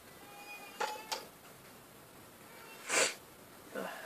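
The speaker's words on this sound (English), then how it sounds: "Again, I apologize for the sniffling." A person sniffles several times, with short nasal snorts and breathy bursts spaced apart in a quiet setting.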